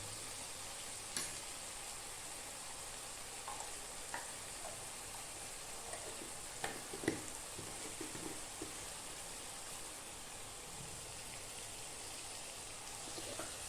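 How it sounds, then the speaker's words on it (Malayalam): Ghee heating in a pan while being stirred for a chicken dish, a faint steady sizzle and hiss with occasional small scrapes and ticks from stirring, continuous throughout. "നെയ്യ് വെച്ച ശേഷം ഒന്ന് ആ നെയ്യ് എല്ലാ സ്ഥലത്തേക്കൊന്ന് സ്പ്രെഡാവാൻ വേണ്ടിയിട്ട് ഇളക്കുക"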